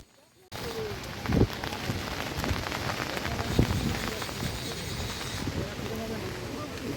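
Heavy storm rain pours down outdoors during a hook-fishing trip, making a dense, steady hiss of drops striking surfaces, with a few louder thumps and splashes close by.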